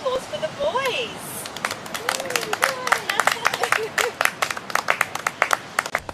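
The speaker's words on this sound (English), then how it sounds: "So let's have a round of applause for the boys." Guests clap for the boys at a wedding: a swelling round of applause with sharp individual claps growing more distinct as it thins out, while people chatter and a voice rises over it early on.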